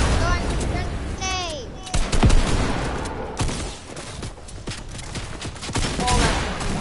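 A video game firefight with rapid bursts of gunfire and rocket blasts. The sharp shots crack loudly in clusters over a constant noisy backdrop, with excited voices shouting between them.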